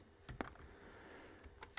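Keys clack on a computer keyboard while a command is entered in a Kali Linux terminal, a few quiet scattered taps with gaps between them, close but faint.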